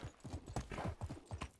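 A horse's hooves clip-clop at a brisk trot while being ridden in the medieval video game Medieval Dynasty, a quick even rhythm of hoofbeats heard close, with soft game ambience behind.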